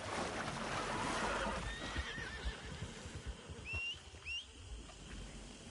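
A horse in Red Dead Redemption Online neighs and whinnies with rising, wavering cries over a rumbling outdoor background, followed by a couple of short squealing calls near the end, quiet overall.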